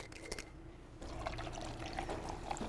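Aperol pouring into a glass over Prosecco for a spritz, a soft steady liquid trickle lasting a couple of seconds after a brief quieter start, close and moderately faint with no talk.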